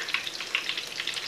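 Coconut-coated shrimp fry in hot oil with a steady, close crackling sizzle and frequent small pops, continuous throughout with no voices.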